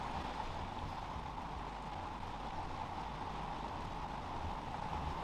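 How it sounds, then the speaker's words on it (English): Steady rain falls throughout, a dense even hiss of drops with no breaks, fairly quiet and continuous with no voices. "I'm sorry about the rain."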